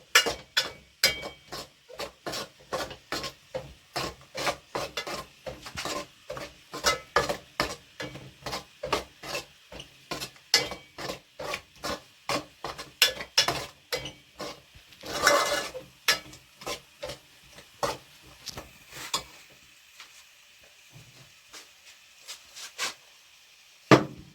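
Coriander and turmeric powder are sautéed on a low flame for a Kerala-style anchovy fish curry, with a spoon scraping the pan in steady, rhythmic strokes over a soft sizzle.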